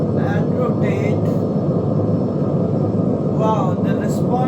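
A steady, loud airplane engine roar rumbles continuously during takeoff in a flight simulator game, with a voice talking over it throughout.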